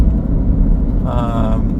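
Road traffic on the highway between Dubai and Abu Dhabi makes a steady low rumble of passing cars beneath a voice talking in the foreground.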